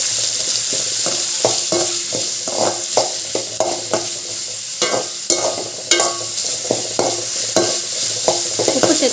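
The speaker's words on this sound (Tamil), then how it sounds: "ரெண்டு வெங்காயம் வதங்கிக்கலாம்." Two onions sauté in a pan for pasta, a constant bright sizzle punctuated by repeated scraping stirs of a spoon against the pan at an irregular rhythm.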